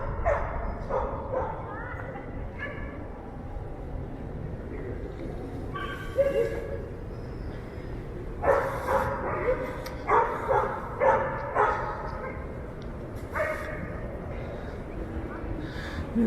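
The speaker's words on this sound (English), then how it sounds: "And many dogs over here." Several dogs bark in scattered bursts, some near and some farther off, with yips mixed in over outdoor background noise.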